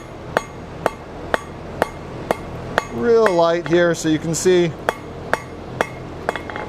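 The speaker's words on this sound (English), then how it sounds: "So some nice easy hammer blows here" Light, easy hammer blows flatten a forged steel twist, ringing out about fourteen crisp metallic strikes at a steady, unhurried rhythm, with someone speaking briefly in the middle.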